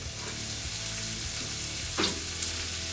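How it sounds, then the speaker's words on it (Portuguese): Meat goes into a frying pan of sizzling onions and yellow peppers. A steady, close sizzle runs throughout, with a brief clatter partway through. "agora eu vou pôr a carne"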